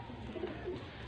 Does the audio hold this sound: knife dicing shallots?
no